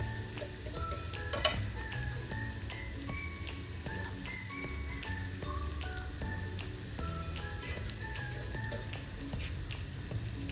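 Finely chopped onion filling for stuffed butter garlic mushrooms fries in butter with garlic, giving a steady, close sizzle and crackle with light stirring clinks throughout, and no talking.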